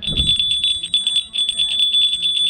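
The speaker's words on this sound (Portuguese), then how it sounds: "Você vai chegando, tem que tocar a campainha, ó." A bell or buzzer sounds at the gate of a horse training center, a steady high electronic tone pulsing in rapid repeated bursts for the whole stretch, with a low thump at the start.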